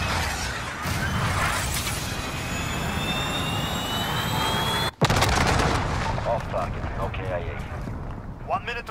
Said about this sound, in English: I got a VTOL early, boys.